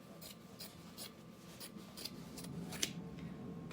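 Scissors cutting fabric in half while sewing a tote bag, a series of close, soft rhythmic snips and rubbing rasps of blades through cloth, quiet and alone.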